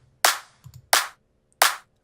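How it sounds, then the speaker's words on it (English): Dry hand clap sample in Ableton with no reverb, three crisp, evenly spaced claps, each cutting off sharply into silence, with a faint soft tap in between. "It adds the reverb, but it also keeps the original sound of the clap."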